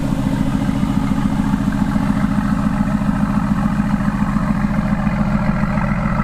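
A supercar with black chrome finish idles loudly and steadily nearby, its engine giving a constant rumbling drone with a fast even pulse throughout.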